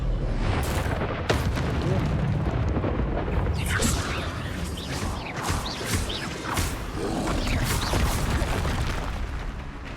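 An Expulso spell explosion from the Hogwarts Legacy video game sets off booming magical blasts and crackling bursts over a busy game soundscape, with someone talking over the action.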